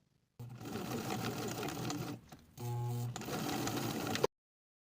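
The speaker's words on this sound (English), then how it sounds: "I'm going to sew with a 3/8 inch seam allowance from the outer fold to my pin" A sewing machine stitches a cropped jacket seam in close, loud whirring runs, pausing briefly before a second steady burst that ends with a short backstitch.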